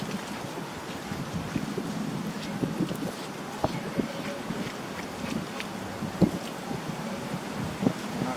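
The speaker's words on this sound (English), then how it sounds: "if it's a little bit windy, I apologise" Wind buffets the microphone outdoors, a steady low rumble with occasional gusty bumps, while quiet speech sits faintly underneath.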